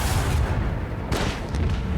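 Spaceship dorsal cannon fires in the space battle of the video game Rogue Trader, a deep booming blast with a sharp crack near the middle of the clip and a couple of smaller bursts after it.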